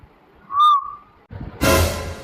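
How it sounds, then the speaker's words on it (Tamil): A person whistles a single clear, rising-then-falling note, short and close, followed after a pause by a burst of broadband noise. "ஐயோ, இந்த விசில் சவுண்ட்."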